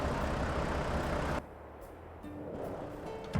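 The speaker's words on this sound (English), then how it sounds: "I like the sound of the turbo kicking in on that one." Heavy truck engine drone that cuts back abruptly, then builds again with a rising whine as boost comes in, steady and loud throughout.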